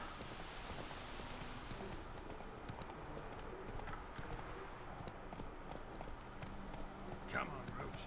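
Roach, a horse in The Witcher 3, runs with steady hoof clip-clops at moderate distance over continuous game ambience and music, while people talk over it throughout.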